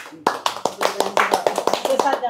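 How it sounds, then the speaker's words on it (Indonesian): At an Islamic religious study gathering, the audience claps hands in a quick series of about a dozen sharp, close claps in a loose rhythm. "Tepuk tangan."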